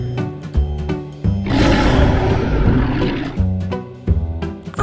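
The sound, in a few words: voice imitating a lion roar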